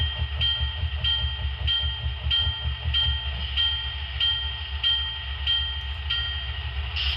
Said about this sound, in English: There's a bell on F1.